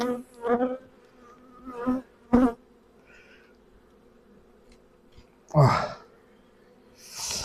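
Honeybees buzz at a hive in short bursts, a few close passes rising out of a low, steady hum, with quiet gaps between.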